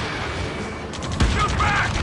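Gunfire in a military shooter video game, rapid crackling shots blending into a rumble of battle, loud and dense under overlapping combat noise, with voices shouting in the mix.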